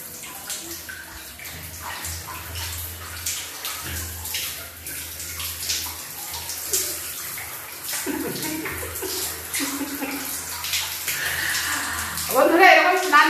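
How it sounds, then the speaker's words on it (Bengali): Water runs and splashes steadily in a bathroom as two people bathe together, with voices talking over it throughout and a louder burst of splashing near the end. "আমরা দুজনে স্নান করছি।"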